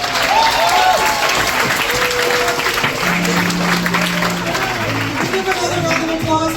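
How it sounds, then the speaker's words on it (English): Loud, sustained applause from a crowd at a jazz event, with cheering and voices mixed into the clapping throughout. "Give another round of applause to Mr. Melton Mustafa Jr."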